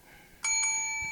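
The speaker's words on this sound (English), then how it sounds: "And that is the IRS bell right there." A bright bell sound effect signals a correct quiz answer with two quick, clear strikes. The tone rings on briefly in near silence.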